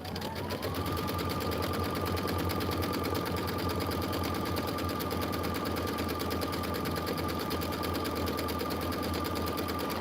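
A sewing machine stitches quilting on a Kimberbell Enchanted Winter filler block with a steady, continuous whirring hum and a fast needle rhythm that runs unbroken throughout.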